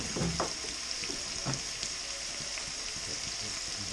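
Garlic and vegetables fry steadily in a pan for a green salsa, a close, continuous sizzle with occasional light stirring clicks and no talking over it.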